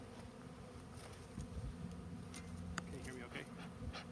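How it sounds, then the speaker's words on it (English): Bees buzz softly around an outdoor hive during beekeeping work, a faint steady hum under a person speaking briefly, with small knocks and rustles. "when we use a smoker for when we're working bees, it's to help calm the bees down"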